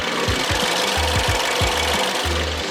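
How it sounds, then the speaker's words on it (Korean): An imported SUV's gasoline engine runs steadily and loudly with the hood open, close up, with a dense whirring hum and a low, uneven knocking throb pulsing underneath. "영상으로 엔진 소음 한번 담아보도록 하겠습니다"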